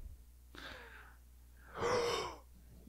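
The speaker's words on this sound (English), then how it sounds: "You hear him breathing?" A person breathes heavily, with one rough, airy breath followed after a pause by a louder, longer exhale like a gasp or sigh, close to the mic with no talking.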